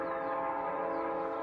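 A train in the video game Parasite Flower passes on nearby tracks, giving a steady, sustained tonal whistle-like drone with rumbling underneath, fairly faint and continuous throughout.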